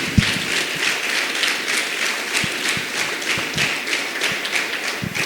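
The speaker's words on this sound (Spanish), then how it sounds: "Bríndale el aplauso al Señor" Congregation applause during a Spanish-language church sermon, dense steady clapping with scattered low thumps and taps mixed in, fairly loud and close throughout.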